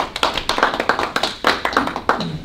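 An audience claps in a room, a loose irregular patter of hands that stays fairly loud and close for a couple of seconds without any talk over it.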